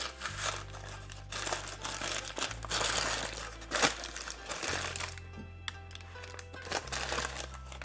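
Parchment paper crinkling and crumpling in bursts over several seconds, close by, with sharp crackles over a low steady hum.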